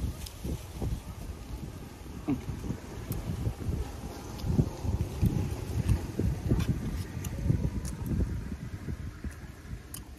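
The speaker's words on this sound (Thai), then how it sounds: "มีเสียงลมเลยพี่น้องเนี่ย" Wind blowing outdoors over a flooded rice field, a steady rumbling gust noise buffeting the microphone with irregular low thumps throughout, no talk.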